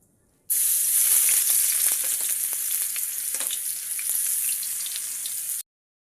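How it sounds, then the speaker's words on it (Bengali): Sugar, black cumin, dry red chilli and garlic fry in hot oil in a wok, a loud, steady bright sizzle that starts abruptly and runs without pause before cutting off. "এখানে নিয়েছি চিনি, কালো জিরে, শুকনো লঙ্কা আর রসুন। আমি এগুলোকে এবার লাল করে নেব।"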